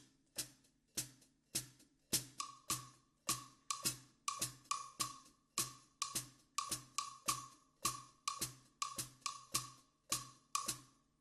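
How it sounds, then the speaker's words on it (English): A drum kit plays a clave rhythm over a steady hi-hat pulse, with sharp clicking strikes in a repeating syncopated pattern and a faint ringing tone on some hits, close and alone with no voices. "with a pulse here on the hi-hat so you can hear the pulse"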